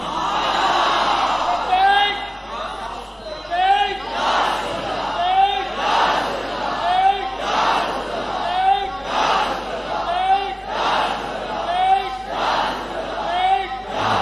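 A crowd at a religious gathering chants a slogan in loud, regular call-and-response bursts, roughly every second and a half, with voices rising together in each shout over a steady background murmur.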